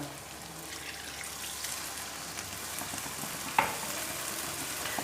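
Milk poured into semolina halwa in a hot pan, with a steady close sizzle throughout and one sharp crackling burst near the end, no talking.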